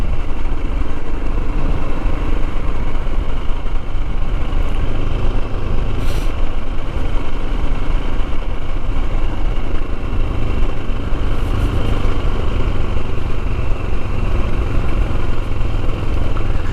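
Royal Enfield Himalayan motorcycle riding along Cornish country lanes toward St Winnow, a steady engine drone with wind rumble running loud and unbroken throughout, with no talk.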